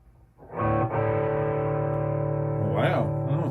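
A sustained, gritty overdriven electric guitar chord through a Klon Centaur-style overdrive pedal rings out loud and steady, with a brief strum accent near the end.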